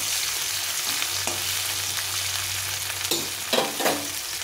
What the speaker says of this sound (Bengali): এখন এই তেলের মধ্যে এখানে নিয়েছি একটু ছোলার ডাল